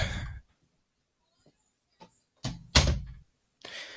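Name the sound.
bedroom door being closed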